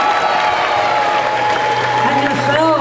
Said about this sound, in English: How about one more round of applause for the elves